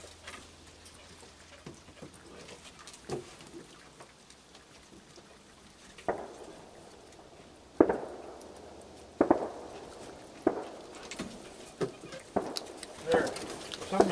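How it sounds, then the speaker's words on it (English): Distant fireworks pop and crack in irregular bursts, some sharper and louder than others, over a quiet outdoor background with faint ambient noise. "What are they firing fireworks off tonight for?"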